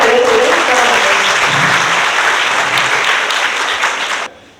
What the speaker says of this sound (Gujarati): એના માટે ખૂબ જોરદાર તાળીઓ જોઈએ.